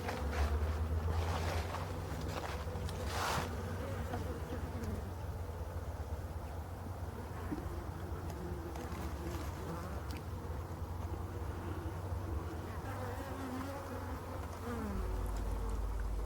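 Honeybees buzz around hives on a sunny winter day, a continuous close hum of many insects flying past, with individual bees droning by louder at moments and no talking.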